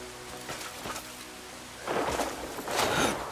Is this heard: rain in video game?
yes